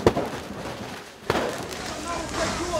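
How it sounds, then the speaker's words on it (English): Protesters at police barricades during the Euromaidan unrest shoot fireworks, giving two sharp bangs about a second apart over a murky background of crowd noise and voices. "The protesters are shooting fireworks now towards the police."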